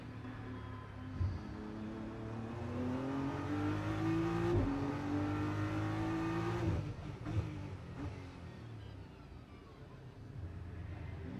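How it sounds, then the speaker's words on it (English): Race car engine at the Macau Grand Prix on the approach to Donna Maria and the hairpin, a loud rising engine note climbing through gears with a brief hesitation, then backing off sharply as revs drop and the car fades. "You can tell off the engine note where he's just slightly hesitant where he commits."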